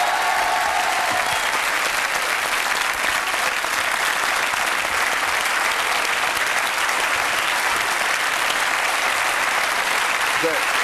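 A television talk-show studio audience applauds to welcome guest Vanessa Paradis, with loud, dense clapping that runs steadily and unbroken.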